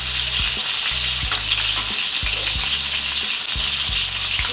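Hilsa fish half-fries in hot oil in a pan, a loud dense close-up sizzle with rhythmic low thumps and scrapes as the pieces are moved, no talking.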